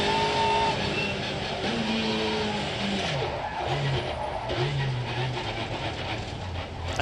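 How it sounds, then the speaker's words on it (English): A touring car in a 2017 WTCC race at Marrakesh skids after losing its front brakes, a loud continuous roar of engine and scrubbing tyres with pitch-shifting engine tones throughout, under race ambience. "Tom Coronel's brakes just vanished into the ether"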